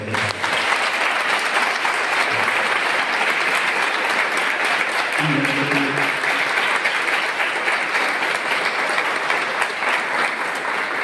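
Audience at a children's education talk at a girls' gurukul in Porbandar applauding for Nagar Saheb: dense, sustained clapping from a large crowd, loud and even throughout with a few voices mixed in.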